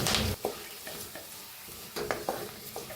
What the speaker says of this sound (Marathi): आता तेल तापलेलं आहे, मोहरी टाकू, एक चमच जिरे टाकू, लसूण टाकू, कढीपत्ता टाकू